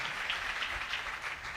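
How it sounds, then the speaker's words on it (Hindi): A church congregation claps during a sermon, a steady wash of applause at moderate level running throughout, with no speech over it. "खुदा के जलाल के लिए जोरदार तालियां बजाएं।"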